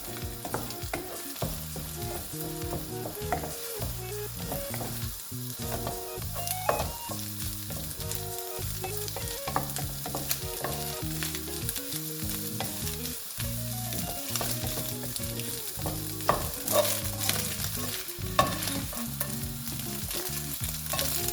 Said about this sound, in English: I've added my eggs. So I'll wait a little bit, then I'll start stirring it